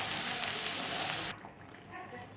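Spiced masala sizzling loudly in hot oil in a pan while being cooked down for a Bengali fish curry, a dense steady crackle that drops sharply to a quieter simmer partway through.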